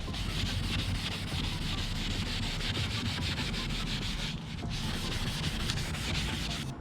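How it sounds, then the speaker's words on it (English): Steady back-and-forth scrubbing of a car headlight lens with a Meguiar's headlight restoration kit cleaning pad and solution, a continuous rough rubbing texture that stays close and even, with no talk over it. "You apply the cleaning solution onto the pad and then and with a back and forward motion,"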